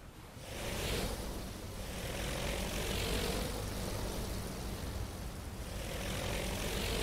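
Propeller aircraft droning in steadily over a continuous wash of sea and surf in the carrier game Aircraft Carrier Survival, the engine swelling and fading in a long, even roar with no talk.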